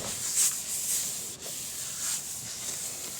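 Walnut wood being wiped down with denatured alcohol, giving a steady soft rubbing hiss with gentle swells through a few seconds, close and alone without talk.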